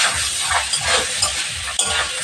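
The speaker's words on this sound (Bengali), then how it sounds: "ডালটা এখানে দিয়ে দেবো, এটাকে একটু ভেজে নেব।" Lentils, vegetables and grated coconut frying in a pan for a South Indian kootu, with a steady close sizzle and bursts of stirring scrapes throughout, no voices.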